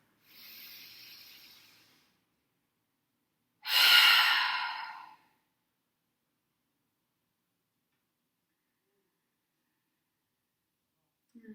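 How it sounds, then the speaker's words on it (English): Deep breathing during a gentle yoga flow: a soft inhale, then a louder, longer breathy exhale, both close and quiet, followed by silence. "So inhaling together."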